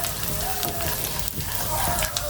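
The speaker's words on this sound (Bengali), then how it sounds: "বাদামের খোসা সবাই দিব ঘিয়ের সাথে সুন্দরভাবে ভেজে নিব" Cashew or nut pieces frying in ghee in a pan for a semai pitha sweet, giving a steady dense sizzle and crackle that fills the clip, with a faint voice in the background.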